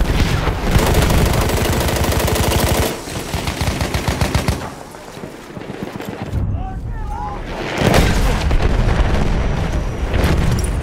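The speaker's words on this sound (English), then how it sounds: "Bomba atıyorum. Dikkat edin." Battlefield video game combat: dense rapid gunfire and booming blasts, loud and continuous, easing briefly midway before heavy firing resumes.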